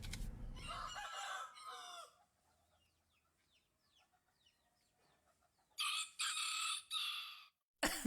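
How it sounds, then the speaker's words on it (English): A Maui rooster crows a loud cock-a-doodle-doo, then clucks faintly in a quiet stretch before crowing loudly again twice near the end. "I'm going to use the big cock-a-doodle-doo piece"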